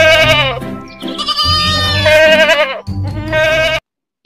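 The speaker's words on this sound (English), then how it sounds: "G for goat." A goat in a children's cartoon bleats loudly and close by, three drawn-out, wavering bleats in quick succession with brief gaps between them and no talking.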